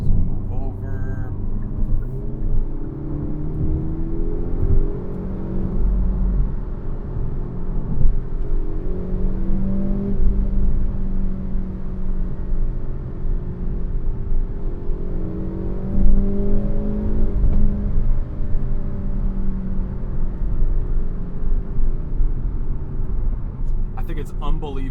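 A 2025 Hyundai Elantra N with a DCT, heard from inside the cabin, accelerates hard through an N Grin Shift run. The engine drone climbs steadily through the gears under a speaking voice.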